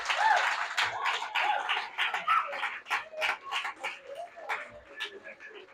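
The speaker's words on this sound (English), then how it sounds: "Just give yourselves a round of applause." An audience at an awards evening claps in a burst of applause, loud at first and thinning to scattered individual claps toward the end.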